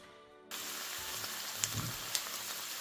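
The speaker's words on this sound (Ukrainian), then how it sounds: "Смажимо 2-3 хвилини гриби і відразу додаємо цибулю та моркву." Mushrooms start sizzling in a pan after a quiet moment, a soft steady fry with a couple of sharp pops and crackles.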